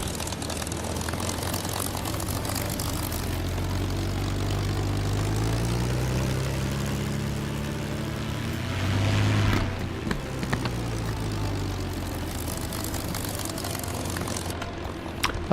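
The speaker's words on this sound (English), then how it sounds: "Sounds like a couple Harleys idling." A video game engine idles with a deep, throbbing rumble like a pair of Harley motorcycles, a steady loud drone that swells briefly midway before settling back.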